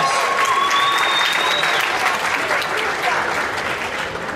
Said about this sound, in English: Why don't you clap for them for once?